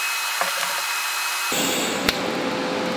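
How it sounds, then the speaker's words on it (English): Caps are welded onto a motorcycle leaf spring suspension. After a quiet start with small workshop knocks, a loud steady hissing buzz begins abruptly and carries on, marked by a single sharp crack partway through. "I'm gonna weld them on here."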